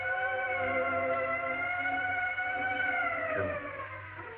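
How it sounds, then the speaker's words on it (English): A loud ambulance siren wails steadily and close by, its tone holding and then sliding downward near the end. "The ambulance."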